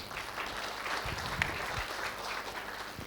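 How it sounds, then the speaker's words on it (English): Soft, steady applause from a seated audience at a cruise presentation, a low continuous patter of many hands heard at a distance with no talking over it. "Round of applause for George."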